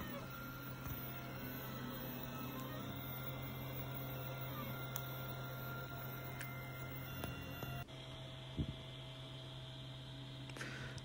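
A 3D printer prints a nylon part with undried filament, giving a faint steady mechanical whir and hum with small motor tones and occasional clicks near the end.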